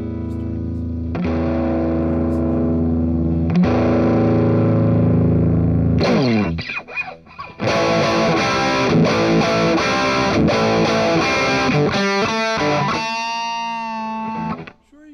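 Distorted electric guitar through the Plexi amp model of a Spark 2 amplifier, loud and continuous: sustained chords and riffs, a brief pause near six seconds, then denser crunchy playing with bright upper harmonics.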